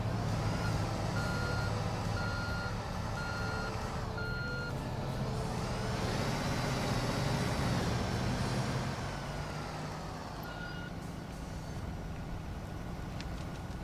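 A truck in the video game Construction Simulator 2 sounds repeated reversing beeps in an even rhythm over its rumbling engine, the beeping stopping partway as the motor revs, then returning once more.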